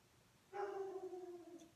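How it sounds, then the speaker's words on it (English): A dog at home gives a single drawn-out, whining bark during a live crafting stream. The sound is faint and distant, lasts about a second, and is heard alone over quiet room noise. "Every time I hit live, my dog starts barking."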